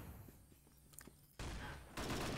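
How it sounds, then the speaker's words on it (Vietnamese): Heavy gunfire from the tiger gun in the video game CrossFire, two loud sustained bursts of rapid shots following quieter game noise, with no talk. "Con này bắn chắc là khá ồn anh em."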